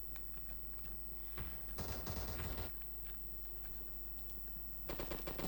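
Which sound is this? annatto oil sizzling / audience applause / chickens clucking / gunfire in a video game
gunfire in a video game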